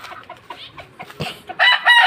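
Dan gray roundhead gamefowl roosters on a farm crow and cluck in short bursts, the calls growing louder and fuller toward the end, with no talk over them.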